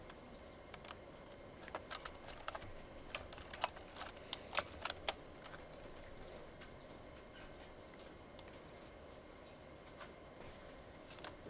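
Quiet computer keyboard typing into a Python shell, irregular bursts of soft key clicks with short pauses, close but faint over a low room hum.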